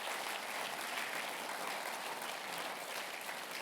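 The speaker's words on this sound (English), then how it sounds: "Can we give Grahame a massive clap?" Conference audience applauding a speaker, a steady dense wash of clapping that holds evenly throughout with no talk over it.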